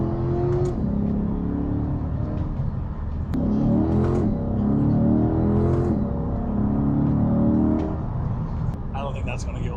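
A Corvette C8 ZR1 engine revs through its exhaust, deep rising and falling pulls repeated several times at close range, loud and sustained, with a brief higher burst near the end.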